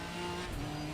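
A race car spins out at the Hungaroring in Assetto Corsa Competizione, heard as a continuous, loud engine drone with a brief rush of tire noise midway.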